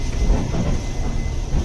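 A long-distance superfast express train grinding to a halt after someone pulled the emergency chain, its steady low rumble and rolling noise close and continuous with no talk.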